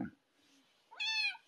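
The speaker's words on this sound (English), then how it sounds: "You have a loud meow." A cat gives one loud, drawn-out meow near the end, close and clear after a brief faint sound, with no talking over it.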